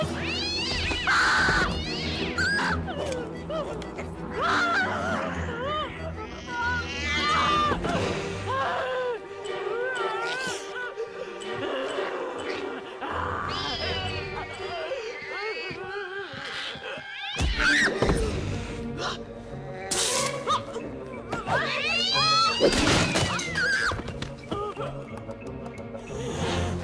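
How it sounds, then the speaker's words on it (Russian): An enraged cat yowls, screeches and caterwauls through a slapstick fight scene from the comedy film Scary Movie 2, loud and chaotic with thumps, crashes and shouting voices mixed in throughout. "Спасите! Моя кошка взбесилась!"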